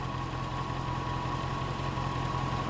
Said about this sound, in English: it seems to be idling a lot better now